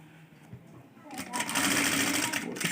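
Sewing machine stitching along a folded fabric edge starts after a quiet moment and then runs in a fast, steady whirring rattle. Someone speaks briefly beforehand.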